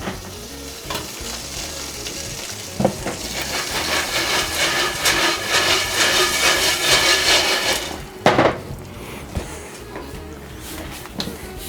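Butter melting and sizzling in a hot stovetop pot of freshly popped popcorn, heat switched off, a steady loud crackling hiss with scraping stirring sounds and a couple of sharp knocks near the end.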